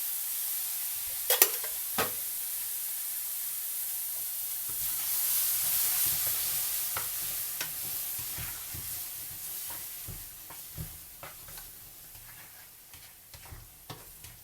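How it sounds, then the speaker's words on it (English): Chopped tomatoes drop into a hot pan of onions, celery, carrots and red pepper for Moroccan bean soup. A steady sizzle runs throughout, broken by a few sharp clinks and scrapes of stirring. "The tomatoes are going in."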